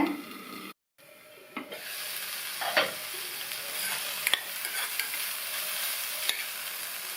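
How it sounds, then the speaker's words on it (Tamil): Beans cooking in a pan are stirred with a spatula, giving soft scraping strokes over a steady sizzle after a lid is lifted, with occasional sharp taps against the pan. "இடையில திறந்து பார்த்து நல்லா கிண்டி விட்டுக்கோங்க"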